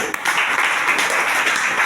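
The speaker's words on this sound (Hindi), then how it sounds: "हमारे संजीव कुमार गुरुदेव के लिए एक बार जोरदार ताली होनी चाहिए।" Loud, steady applause fills a Sunday seminar hall for a speaker named Sanjeev Kumar, a dense wash of many hands clapping close by with no break.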